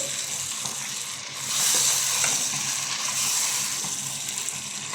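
Fish head sautéing in a pan for a fish-head and eggplant curry, giving a steady close sizzle with stirring scrapes that swell louder midway, no voices.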